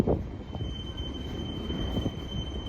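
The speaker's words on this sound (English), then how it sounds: "And this train appears to be, it is over 1 mile long." A long Norfolk Southern westbound manifest freight train rolls past at Hoover Road, wheels squealing in a steady high whine over a continuous low rumble of cars, close and sustained.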